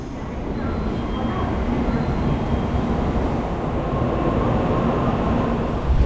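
Steady low rumble and rolling rail noise inside a moving Shinkansen bullet train travelling from Kyoto to Osaka, continuous and fairly loud throughout, with a faint bump near the end.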